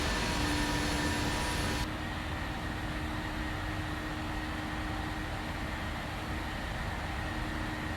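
A PMDG 737 jet engine in the Prepar3D flight simulator gives a continuous steady roar with a faint whine. The sound drops slightly in brightness after about two seconds and then holds even.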